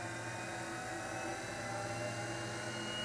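A Record Power DML320 wood lathe motor running steadily, a constant smooth whir with a low hum, near and even throughout, no voices.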